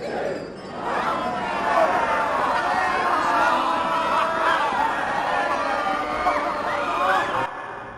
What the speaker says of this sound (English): As you can see, there's crowds of people here